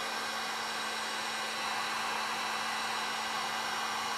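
A hair dryer blows steadily with a constant whooshing rush and a faint motor hum, unchanging throughout and with no voices.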